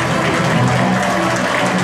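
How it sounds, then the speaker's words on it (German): A crowd at the start of a company run applauds in a steady, dense wash of clapping, loud and continuous for the whole short stretch, with no voices on top. "das ist der Applaus"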